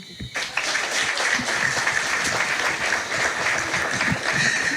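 An indoor audience at a reception in Guadeloupe honouring Laura Flessel claps in sustained, moderately dense applause that starts suddenly and keeps going.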